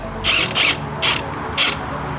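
Ratchet fitted with a 12mm socket and a swivel extension, turning a bolt on a Lexus IS200 exhaust manifold, in three quick, loud bursts of close clicking separated by short pauses.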